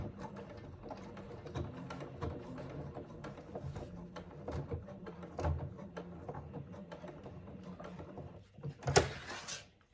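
A sewing machine top stitches a rectangle on a handbag with pink lining, a faint, quick mechanical whir and tapping running in short bursts, with a louder rattling knock near the end.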